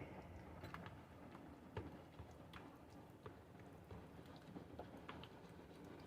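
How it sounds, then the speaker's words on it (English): Steady rain drums on the roof of an RV, a dense, even patter with scattered sharper drops throughout, filling the space without any talk. "Can you hear it raining? Sounds wonderful on the roof of an RV."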